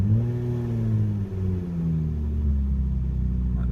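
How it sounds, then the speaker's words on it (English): Car engine that has sat parked for five years, idling roughly and revving slowly: a low rumble with pitch that rises and then sags, close and fairly loud, with no talk. "It revs sometimes if we do it slow."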